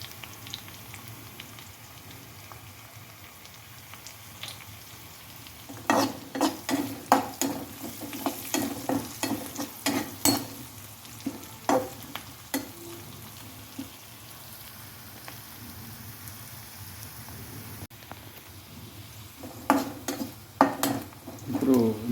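Curry leaves and turmeric frying in a pan for egg gravy, with a steady low sizzle and bursts of spoon scraping and stirring clatter that come in rapid clusters, close and fairly loud.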